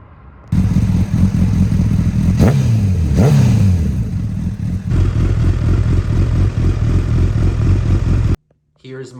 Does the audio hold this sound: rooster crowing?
no